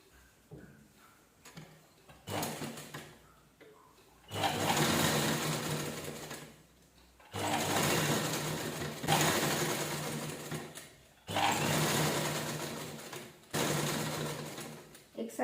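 A sewing machine runs in several bursts, stitching the folded edge all the way round a towel. It gives a loud, close, rapid whirring rattle with short pauses in between, and a voice is heard in the quieter moments.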